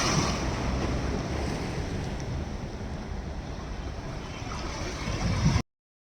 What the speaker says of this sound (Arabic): المية هتيجي علينا. شايفين المية؟ اهي بصوا هتطلع فوق دلوقتي.